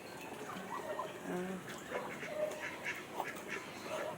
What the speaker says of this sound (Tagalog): napakain ako ng alaga kong pato